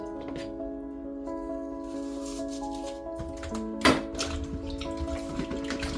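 Home-grown Jamaican yam is washed under running water before going into the pot. Water flows steadily from a tap with a sharp splash partway through, and a faint hum sits underneath.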